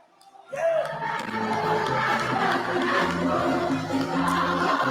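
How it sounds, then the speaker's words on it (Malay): A crowd at a political rally in northern Selangor erupts suddenly for the Selangor Chief Minister after a near-silent moment. Cheering and crowd noise swell and stay sustained and busy, with voices mixed through the din. "sila beri satu tepukan yang gemuruh untuk Menteri Besar Selangor"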